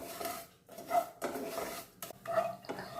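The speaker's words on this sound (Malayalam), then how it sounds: "ഞാൻ പഞ്ചസാരയൊക്കെ ഇളക്കി തുടങ്ങി" Sugar being stirred in a pan as it melts into caramel for payasam, giving irregular scraping and rubbing strokes of a utensil against the metal at close range, with brief pauses between bursts and no talking.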